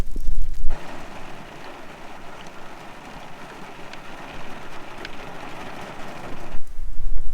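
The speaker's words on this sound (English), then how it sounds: "And it started raining." Steady rain pattering densely during a mountain thunderstorm in the French Pyrenees, a loud continuous hiss that swells and fades, close by with no voices.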